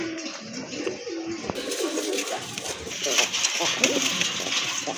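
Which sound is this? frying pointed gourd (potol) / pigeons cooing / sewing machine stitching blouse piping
pigeons cooing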